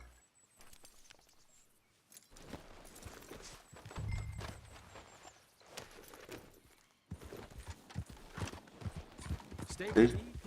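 Horse hooves thud irregularly in Red Dead Redemption 2, moderately close and mixed with game dialogue and other ambient noises, with a louder burst near the end.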